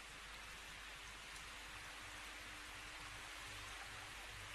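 Steady rain falls on a foggy wooded setting, a dense, even hiss of drops that stays unbroken from start to finish with no voices.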